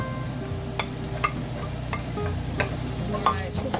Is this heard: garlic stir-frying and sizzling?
yes